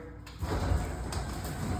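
An automatic sliding door slides along its track with a soft, steady mechanical rumble and whir lasting a couple of seconds, fairly quiet and close.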